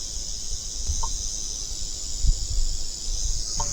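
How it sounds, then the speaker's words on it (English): A rattlesnake rattles on a Wyoming turkey hunt, making a continuous high, hissing buzz close by, joined by a few faint thuds and rustles. "I hear this buzzing noise in front of me, like right in front of me"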